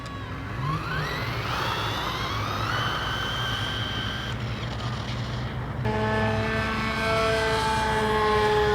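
Rlaarlo AM-D12 RC car running fast on a 2S battery, a continuous high-pitched electric motor whine that rises and shifts in pitch as it speeds past, loud and steady throughout with no talking.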